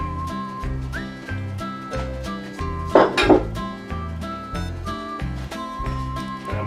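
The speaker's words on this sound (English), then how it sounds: "So I'm going to put half the potatoes in." Raw potatoes tumble into a crock pot for pot roast with a brief cluster of knocks and clatter near the middle, partly masked by steady background music.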